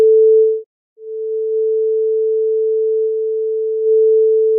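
A pure, steady sine wave tone from a FlowStone FM synthesizer hums at one fixed pitch, cuts out briefly near the start, then resumes and holds evenly at moderate loudness.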